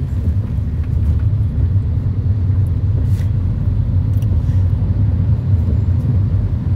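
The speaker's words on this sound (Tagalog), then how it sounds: "Oh, it's traffic again." Steady, loud low road rumble of traffic heard from inside a moving car with a passenger riding in the back seat, continuous and unbroken with no talk over it.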